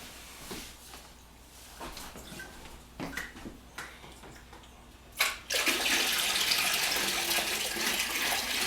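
Water pours from a 5-gallon jug into a saltwater aquarium, with a few splashes and clunks, then a steady loud gushing stream that continues to the end.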